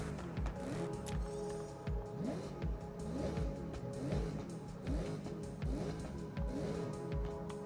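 A 2024 Chevy Camaro engine in Forza drives with a rhythmic, repeating revving pulse and a low rumble, steady and fairly close, with faint speech in the background.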